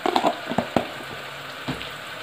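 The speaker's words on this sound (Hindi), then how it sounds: "अब इसको बस मसाले को भून लेते हैं।" Spices and dried coriander fry in a pan for aloo gobi with a soft, steady sizzle, punctuated by several sharp scraping stirs of a spoon early on and one more later.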